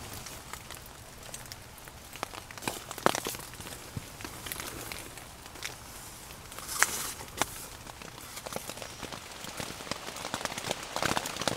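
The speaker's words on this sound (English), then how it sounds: "Loving it in here in the rain." Steady rain patters on a fully enclosed tarp shelter at a solo campsite, with a constant close hiss broken by louder individual drops hitting the fabric.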